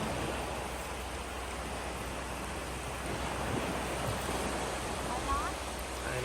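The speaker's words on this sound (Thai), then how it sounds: "เสียงน้ำทะเลนี่มันฮิวใจจริง ๆ เลยนะคะ" Constant wash of sea waves on a shore, a soft, even surf hiss that holds steady throughout without clear breaks.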